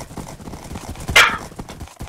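A horse in the Minecraft video game clip-clops with soft, regular hoof thuds, broken midway by a brief bright whinny-like burst.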